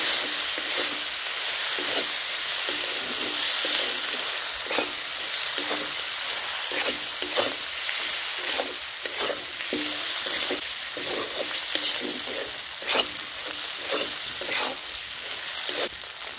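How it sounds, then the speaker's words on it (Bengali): Fried shrimp being stirred through a spiced masala in a pan, a steady loud sizzle with repeated scraping stir strokes throughout, no voices. "মশলায় ভেজে রাখা চিংড়ি মাছটা দিয়ে নেড়ে নিলে আরও ভালো টেস্ট হয়।"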